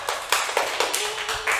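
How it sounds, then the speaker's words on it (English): Several hands clapping together in a short burst of uneven claps, fairly close and moderately loud. "Give him a clap"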